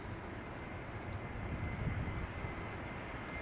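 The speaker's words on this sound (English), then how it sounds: "Now, spoilers have deployed, the reversers have opened" An airliner touching down at Amsterdam Schiphol, spoilers deployed and thrust reversers opened, heard as a short, distant, even roar with low rumble and no voices.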